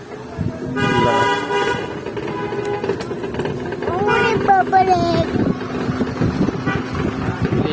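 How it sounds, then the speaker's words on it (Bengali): Vehicle horns honking in a long traffic jam of cars and big trucks, repeated toots over a continuous road rumble, with people talking nearby. "দেখছো কত লম্বা জ্যাম পড়ছে।"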